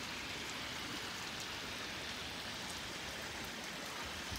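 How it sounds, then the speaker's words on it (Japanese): A heavy downpour from a sudden thunderstorm falls over a flooded rice paddy during rice planting, a dense, steady hiss of rain that stays even throughout, with no talking. "ものすごい豪雨です。"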